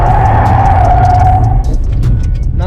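A BMW 530i E34 at a drift event revs hard after a clutch kick, its engine note loud and close before easing off, with brief tire scrubbing and rattling bumps as the car slides.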